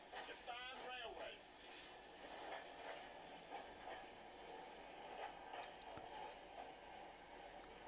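Freight train carriages hauling mineral cargo along the BAM Railway in eastern Siberia, a distant rumble with steady clickety-clack of wheels and occasional metallic squeal, heard under someone talking.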